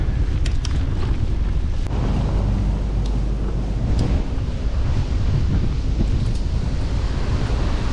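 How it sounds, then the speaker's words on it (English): Water from a dam's outlet pipes makes a loud, continuous roar and rumble of rushing flow, with wind buffeting the microphone and no voices. "Looks like they're letting the water flow through the pipes at the moment."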